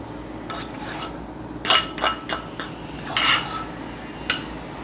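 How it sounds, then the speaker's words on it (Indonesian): Noodles with chicken, sambal, sauce and egg are stirred in a bowl with a metal utensil, giving close, irregular scraping clinks and taps in bursts, with no talking. "Aduk ratanya rada susah ya."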